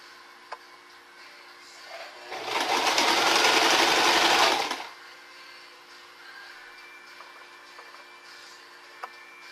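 A sewing machine stitches a fabric trim onto a dish towel in one rapid, whirring burst of about two seconds, with quiet pauses before and after.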